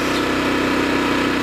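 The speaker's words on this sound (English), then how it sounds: "at the moment it's running at 3850 RPM" A Champion 200961 dual-fuel 2500 watt generator runs on LPG at about 3850 RPM, giving off a steady, close, even engine drone with no variation or voices.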